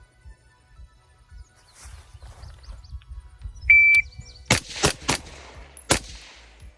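Outdoor pistol-drill gunfire on a range: a handful of sharp, loud shots cracking in a quick irregular burst near the end, after a quiet stretch with a faint electronic beep and light rustling.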